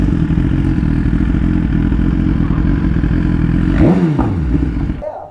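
A BMW motorcycle engine runs loud and close in one steady drone, with a brief rising rev near the end before it cuts off.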